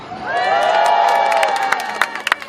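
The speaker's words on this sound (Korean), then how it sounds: "여러분 박수 한번 주세요" A crowd cheers and whoops loudly, with a sustained roar of voices and scattered claps building, after a Korean singer performs a song about Seoul; sharp clap-like bursts rise near the end.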